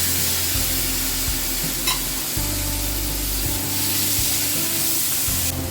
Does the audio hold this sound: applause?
no